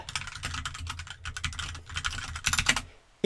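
Fingers type on a wireless computer keyboard in a close, quiet room: rapid clicky keystrokes in uneven bursts, a few louder presses near the end, with no talk.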